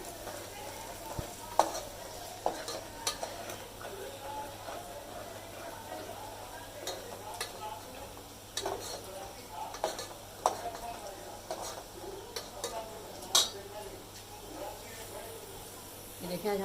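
Onions and chicken fry in a pan for achar gosht, giving a steady low sizzle while a spoon scrapes and stirs with scattered clicks and taps, close and fairly quiet throughout.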